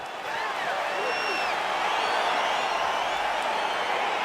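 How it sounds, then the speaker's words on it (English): Crowd noise in the UFC 4 video game, a steady arena roar with scattered whoops and cheers rising as the fight between Rustam Khabilov and Edson Barboza begins, continuous and moderately loud throughout. "crowd getting excited as this fight gets underway"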